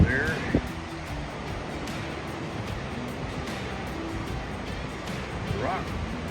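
High-tide Pacific surf pounds the beach at Indian Beach on the Oregon coast, a steady, full roar of breaking waves mixed with gusty wind buffeting the microphone.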